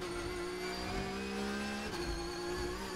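Porsche Supercup race car accelerating through the gears around Hockenheim, a loud continuous onboard engine drone with pitch climbing steadily, then dropping briefly at a gear change before climbing again.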